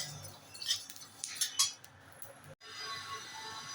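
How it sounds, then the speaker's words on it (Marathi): Flaxseeds dry-roast in a pan for mukhavas, with scattered clinks and scrapes of a utensil against the metal, then a steadier faint hiss after a short break. "आता आपण आळशी भाजून घेत आहोत"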